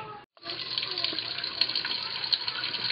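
Water running steadily from a tap or being poured into a pot to fill it about half full for steam inhalation, a continuous close splashing hiss after a brief pause at the start.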